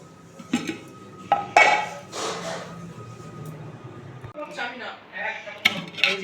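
Steel dishes and pots clatter and clink close by while rice is served onto plates, with several sharp knocks and scrapes as someone talks throughout.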